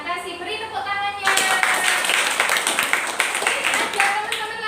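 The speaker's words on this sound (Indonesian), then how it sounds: "Beri tepuk tangannya." Students applaud in a classroom during a group guidance lesson on interpersonal communication, dense clapping starting abruptly after a brief voice and sustaining loudly to the end, with talk faintly underneath at first.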